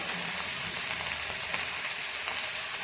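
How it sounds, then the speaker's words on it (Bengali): Taro seasoned with salt and turmeric powder frying in a pan, a loud, steady, close hiss of sizzling oil with faint stirring, no voices. "এটাকে ভালো মতো এখন ফ্রাই করে নেব"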